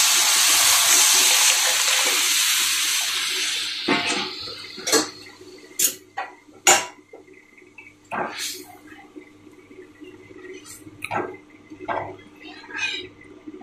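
Pressure-cooked mung dal being poured into a pan, a steady wet gush for about four seconds, then scattered drips, plops and utensil clinks close by.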